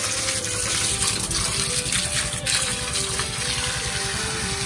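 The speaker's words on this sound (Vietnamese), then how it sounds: "Trong thời gian xả nước thì" Well water gushing and draining from a snail-farming tank, a loud continuous rushing flow with a steady pump-like hum underneath throughout.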